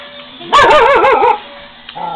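A dog barks close by in a home setting, one bark run into a wavering, howl-like yowl that lasts under a second, with a faint yip after it over steady background noise.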